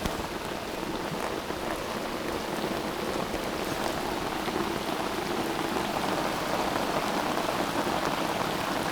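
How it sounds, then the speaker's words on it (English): Heavy rain pelts a river surface in a steady, dense hiss of raindrops that stays loud and unbroken throughout, with no voices. "Because the raindrops on the surface are just so heavy."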